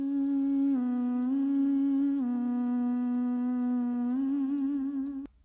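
Distorted, compressed vocal hum ad-lib held as a sustained tone with a few small pitch steps, loud and alone, cutting off abruptly near the end.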